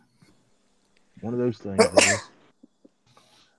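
A person sneezes once, a short sharp burst right after a brief spoken remark, close and fairly loud in a quiet room, followed by a few faint clicks.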